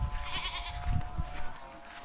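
Goats bleat nearby on a rainy farm, a few short bleats over a background hum, with no talking.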